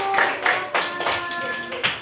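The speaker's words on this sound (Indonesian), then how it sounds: "kita tepuk tangan untuk kelompok 1" A short burst of group clapping, moderately loud and steady for about two seconds, with a faint murmur of voices underneath.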